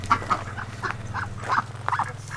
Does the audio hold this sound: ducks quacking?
yes